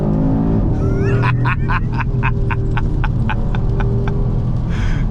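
An Audi RS3 in RS mode accelerates hard on a rainy day, its engine note rising through several quick, evenly spaced gear shifts that sound as loud, rhythmic pulses close up, over a steady low cabin rumble.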